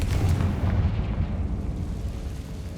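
In the Hogwarts Legacy video game, the Confringo fire spell sets off a loud, deep explosion that booms and rumbles, then trails off into a roaring, crackling decay.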